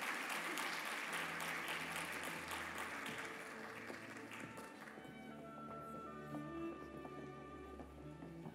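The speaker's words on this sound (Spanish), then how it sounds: "Más fuerte el aplauso para las directoras de la carrera de Nutrición y Dietética" A ceremony audience gives a sustained round of applause for the directors of a university Nutrition and Dietetics program at a 50th anniversary event. The clapping is dense and steady at first, then thins into fewer claps with faint voices and tones underneath.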